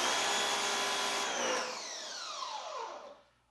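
A CAT 1850 electric pressure washer motor and pump whirring steadily, then spinning down with a falling whine as it switches off, close and fairly loud with no talk.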